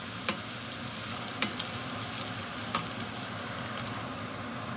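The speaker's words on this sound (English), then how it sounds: "I'm going to just go ahead and add my fried meatballs to this." Fried meatballs added to a soup pot sautéing in oil for Italian wedding soup, a continuous even sizzle with a few light clacks of the pieces dropping in.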